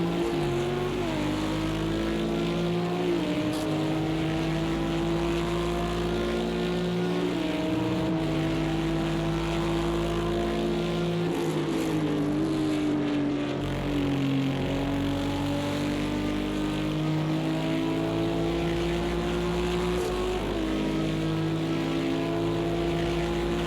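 Porsche and Bentley race car engines from a racing video game, an endurance event at Silverstone GP, drone loudly and continuously with steady high revs and occasional brief pitch dips at gear shifts, close and alone.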